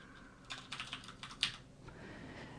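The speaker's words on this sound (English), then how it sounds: "And now I can just proceed by pressing enter." Computer keyboard keys tapped during a FreeBSD 10 installation, a quick run of soft clicks followed by a firmer press of the enter key, close and quiet in a still room.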